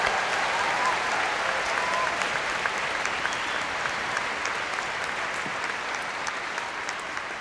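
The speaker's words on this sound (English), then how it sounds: "let's add a round of applause to our beginning instrumentalists" An audience at a Symphony of 1000 awards concert applauds beginning instrumentalists with steady, even clapping that carries on at a moderate level throughout, with no voices heard.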